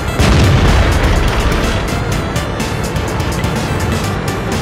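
A T-34 medium tank's cannon fires in World of Tanks on a tundra map: a loud, deep boom at the start that rolls into sustained low rumble and engine-like noise for several seconds, with no talk.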